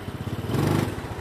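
A Honda Win motorcycle engine idles close by with a steady low chugging pulse that swells briefly midway, alone and with no talk.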